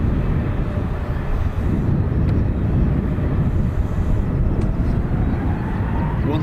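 A Ryanair jet departs Dublin Airport bound for Lisbon, its engines a continuous low, distant roar blended with wind rumble on the microphone.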